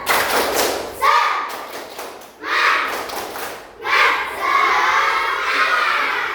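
An Indonesian classroom of children doing the tepuk semangat clapping chant, with bursts of rhythmic group claps and chanted voices in several waves, close and fairly loud.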